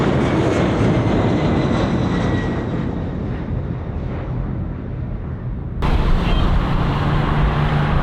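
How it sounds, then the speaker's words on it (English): A Qatar Airways Boeing 777-300ER jet lands at Phuket after a flight from Doha, with a loud, broad jet engine roar that dulls gradually and then surges again sharply with a rush of reverse thrust near the end. "Qatar Airways Boeing 777-300ER makes a beautiful landing in Phuket, HKT, after a nearly 6-hour journey from Doha"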